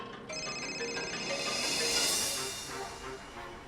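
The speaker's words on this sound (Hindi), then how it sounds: "तुम पहले तिवारी को फोन करो, देखो निकला या नहीं।" A telephone rings in an indoor drama scene, a steady tonal ringtone that holds at moderate level for several seconds with no voices over it.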